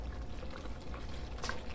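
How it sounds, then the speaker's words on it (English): Beef stock poured into a cooking pot for beef tips and gravy, a steady splashing pour lasting under two seconds, close and fairly loud with no talking. "once you pour the beef stock in here"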